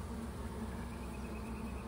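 Honeybees drone steadily around an open hive during an inspection, a continuous close buzzing hum with no talking.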